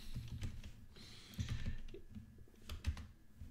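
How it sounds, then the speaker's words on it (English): Quick, uneven keystrokes clatter on a computer keyboard while a web link is being entered, the soft clicks coming in short bursts with brief pauses between them and no talk over them. "I'll type it out."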